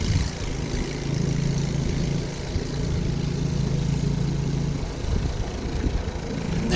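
Snow blower running while clearing snow off a deck, a steady close engine drone with a rough low rumble that holds for most of the stretch, then loosens and turns more ragged near the end, no talk.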